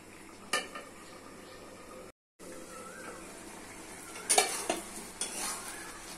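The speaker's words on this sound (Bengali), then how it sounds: "দিচ্ছি খেসারির ডাল। ডাল দিয়ে ভালো করে কষে দিতে হবে" Khesari dal stir-fries in a pan with potato and tomato, a low, steady sizzle under intermittent spatula scrapes and a few metallic clinks, with a brief drop to silence early on and no speech.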